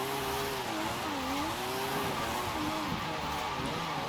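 Car sliding in Forza Horizon 5, engine droning steadily as the tires squeal through a sustained drift, with pitch rising and falling, loud and alone.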